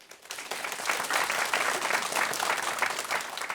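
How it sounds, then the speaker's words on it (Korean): An audience at a book concert claps in a dense, sustained burst, a brisk wash of many hands that rises in the first second and stays steady with no speech over it. "국민들이 박수 치고 있어요"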